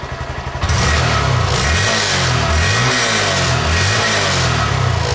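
A 2018 Honda Grom motorcycle fitted with a Two Brothers exhaust idles briefly, then revs up loudly, rising and falling through several throttle blips with a steady rumble.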